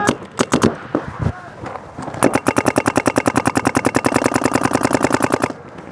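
Paintball markers fire at a paintball event, first a few scattered pops, then a long rapid burst of evenly spaced shots, loud and close, with brief shouting from players among the early shots.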